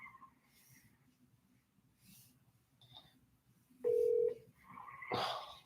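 A phone keypad sounds a short steady dialing tone near the end, faint and brief, amid quiet room noise while placing a call to a life insurance lead.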